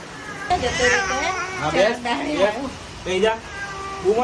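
A male cat meows several times in drawn-out, wavering cries, close by, mixed with people talking nearby.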